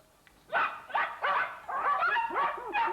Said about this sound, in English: I think we've got the sound of dogs barking.